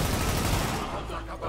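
Rapid automatic gunfire from The Division video game during a Lincoln Tunnel assault rattles in a dense, loud, continuous burst for over a second, easing slightly toward the end.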